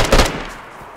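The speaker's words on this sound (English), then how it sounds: "They're shooting." A loud burst of automatic gunfire crackles up close in a multiplayer shooter game, a rapid rattle that decays quickly, with no talk over it.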